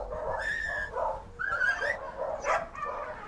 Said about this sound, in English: You can hear just how many dogs are inside.